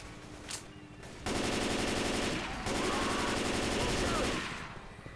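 Rapid automatic gunfire in the zombie shooter Left 4 Dead, long loud bursts of dense shots, with a brief pop before them and the shooting running almost continuously to the end.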